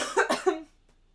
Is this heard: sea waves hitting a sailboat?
no